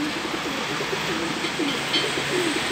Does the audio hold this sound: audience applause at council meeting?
no